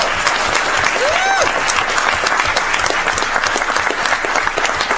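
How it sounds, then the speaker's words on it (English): An audience at a city council meeting claps steadily and evenly for several seconds, a dense sustained round of applause with a brief vocal whoop partway through. "give these guys a round of applause"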